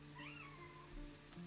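A cat meows in a drawn-out, wavering cry, fairly close and quiet over a low steady background hum, with no talk.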